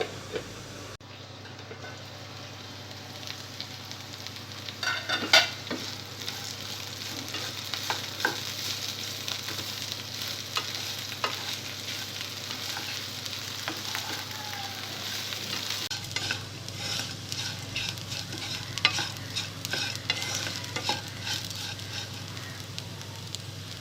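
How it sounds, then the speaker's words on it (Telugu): Bitter gourd pieces with turmeric frying on low heat in a covered pan, giving a steady, continuous sizzle and crackle with occasional faint clinks, close and even throughout. "మూత పెట్టి సిమ్లో ఈ కాకరకాయ ముక్కల్ని బాగా ఫ్రై చేసుకోవాలి"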